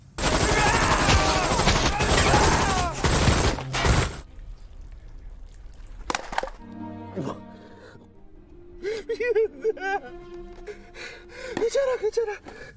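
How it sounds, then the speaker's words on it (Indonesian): Rapid automatic gunfire from a film scene of refugees being shot, a loud dense burst for about four seconds, then quieter scattered sounds with voices crying out. "Gisu yang murka pun memberondong para pengungsi dengan membabi buta"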